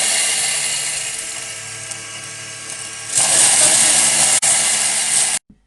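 A Ninja Foodi food processor chops rinsed parsley and coriander, its motor whirring steadily before a sharper, louder high buzz kicks in for a couple of seconds and then cuts off.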